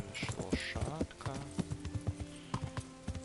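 Horse hooves clip-clopping in the video game Kingdom Come, a quick uneven rhythm of hoof strikes with a brief whinny, heard under a voice speaking to the horse.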